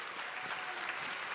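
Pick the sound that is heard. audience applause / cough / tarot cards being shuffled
audience applause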